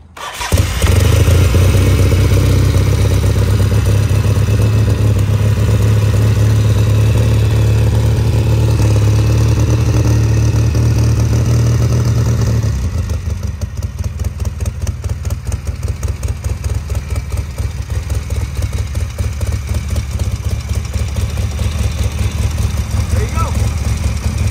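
A 1975 Norton Commando 850 motorcycle with electric start and a Mikuni carburetor on choke cranks and fires on a cold start, revving loudly before dropping into a steady, thumping close-range idle.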